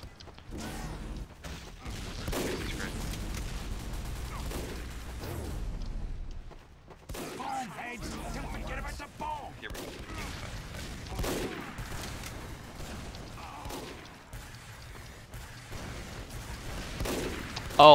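Gunfire in Fortnite comes in scattered bursts of sharp shots and booms, mixed with game effects at moderate loudness, with a brief lull partway through.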